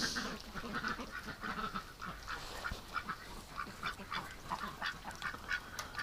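Ducks out on winter water, with a Canada goose nearby, quack in a continuous series of short, overlapping calls at moderate distance, a busy flock chatter with no voices.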